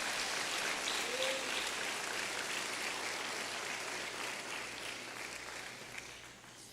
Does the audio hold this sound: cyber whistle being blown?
no